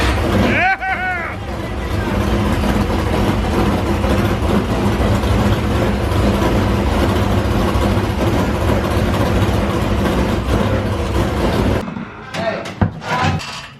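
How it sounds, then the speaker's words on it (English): A race car engine, just installed, fires up and runs at a steady loud rumble for about twelve seconds, then cuts off, with people talking over it and briefly afterward. "Fired up, Dust."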